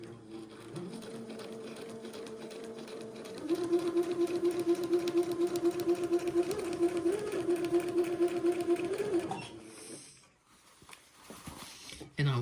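A sewing machine stitches around the shoulder seam of an Eton suit, whirring steadily and growing louder midway before stopping near the end, followed by quiet handling sounds.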